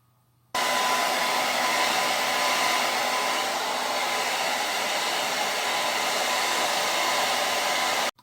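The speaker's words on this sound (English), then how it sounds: "let's hair dry this down and see what it looks like." A hair dryer blows steadily on a handmade cosplay unicorn horn prop, starting abruptly and running as one loud, even, close-up whoosh for about eight seconds before cutting off.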